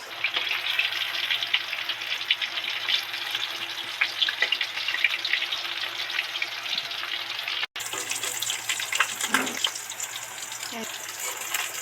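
Katla fish deep frying in oil makes a continuous, moderately loud hiss and crackle, nearby, with a brief break and a few clunks of fish being lifted out toward the end.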